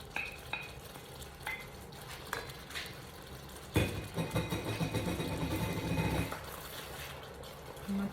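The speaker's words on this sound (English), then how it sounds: "I'm gonna drop my broccoli in there." Broccoli chunks drop into a pan of cooking rice for broccoli cheddar rice, followed by soft sizzling and stirring clatter of a utensil against the pan, moderately close and continuous.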